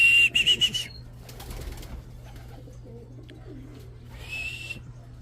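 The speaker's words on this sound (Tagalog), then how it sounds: "Mga tropa, may ibon na tayo." A racing pigeon arriving at its loft during a hard race in Ilagan, Isabela, with a burst of wing flapping at the start, soft coos and scattered rustles, then a second short flutter near the end, close to the listener.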